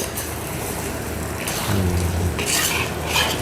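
A spoon scrapes and churns raw young jackfruit into a spice paste in a pot, with a soft sizzle beneath and a few clinks against the metal, close and continuous.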